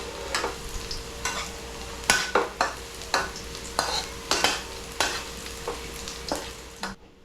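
Garlic sautéing in a hot pan, a steady sizzle broken by repeated sharp scrapes and stirs of a utensil, close and fairly loud, with no voices.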